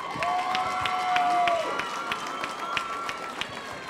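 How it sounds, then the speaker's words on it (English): Crowd cheering and clapping for two MMA fighters after a bout at a Rocktagon event, a broad roar of applause with scattered sharp claps while an announcer's amplified voice carries over it. "give these two fighters one more round of applause"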